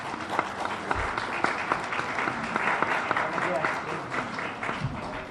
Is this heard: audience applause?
yes